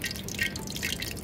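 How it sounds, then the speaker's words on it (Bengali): A bay leaf dropped into a little over half a cup of hot cooking oil, giving a steady, close crackling sizzle with fine popping bursts throughout the short moment. "তেল দিয়ে দিলাম হাফ কাপের একটু বেশি, তেজপাতা"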